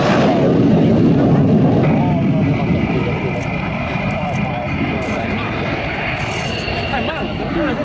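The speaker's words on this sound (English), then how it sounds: "The Mikoyan Gurevich MiG-15 UTI." A Polish-built Mikoyan Gurevich MiG-15 UTI jet flies at the Yeovilton airshow, a loud roar that peaks early and slowly fades, under continuous commentary from an announcer.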